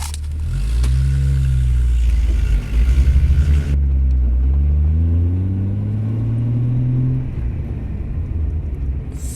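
A Jeep drives a short hop from one parking lot to the next, its engine loud and close, rumbling and revving with rising and falling pitch, then settling into a steady lower drone.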